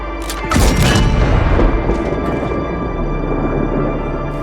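A ship's cannon fires a shell with one loud, close boom that rolls into a long, rumbling decay, heard alone without talk.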